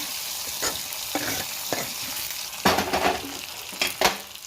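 Hot tempering spices crackle and sizzle as they are poured into mashed eggplant bajji, with a steady frying hiss punctuated by sharp bursts and stirring scrapes at close range, no voices.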